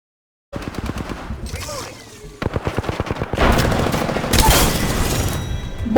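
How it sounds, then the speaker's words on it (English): Automatic weapon fire in the battle royale shooter Apex Legends: rapid bursts of gunshots that start abruptly, build into dense, loud sustained volleys with booming impacts, no talking. "Taking fire."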